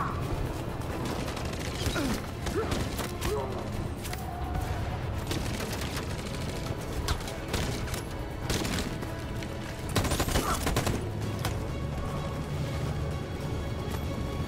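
Gunfire in the video game Detroit Become Human: dense, continuous bursts of shots and mechanical clatter at moderate level, with a sharper, louder volley near the end and no talking.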